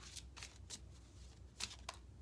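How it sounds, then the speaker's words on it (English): A deck of cards is riffle-shuffled several times in quick crisp bursts, close and quiet, with no talking. "I'm gonna shuffle a couple more times because I'm not done shuffling"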